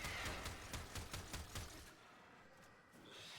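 Rapid gunfire from a Warframe boss fight against Lephantis, a quick burst of repeated shots over the first two seconds, then a quieter hum of game sound.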